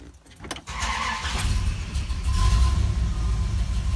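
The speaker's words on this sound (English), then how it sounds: "So I'm going to start the car here and I'll show you what happens with it." A car fitted with an MSD 6AL2 ignition and programmable vacuum advance cranks with a few quick clicks, then the engine catches and settles into a loud, steady close idle rumble.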